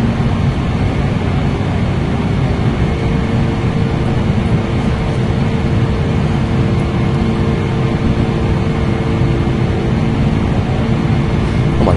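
A PMDG 747 in FSX climbing, heard as a constant loud, broadband engine roar that stays steady and unbroken.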